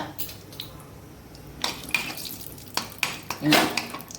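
Ingredients frying in hot ghee for millet pongal, heard as soft sizzling with stirring and scraping of a spoon against the pan, plus a few brief clinks of utensils, fairly close and without speech.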